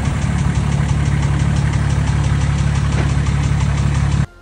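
Nissan Patrol engine with piston slap, running steadily and loud with a dense rhythmic knocking throughout, close up, alone until it cuts out abruptly at the end.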